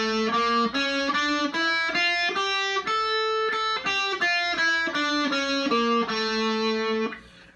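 A distorted electric guitar plays a steady run of single notes, climbing and falling through the Phrygian dominant mode, loud and alone, ending on a sustained note that fades.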